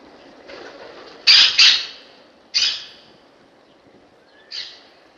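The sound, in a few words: pet bird calling on security camera footage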